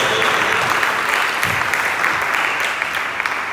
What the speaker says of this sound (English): But let's clap for him.